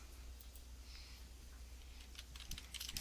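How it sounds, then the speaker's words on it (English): Quick typing on a computer keyboard, a faint patter of soft key clicks that grows denser toward the end, heard alone over a low steady hum. "I have to type raspberries though."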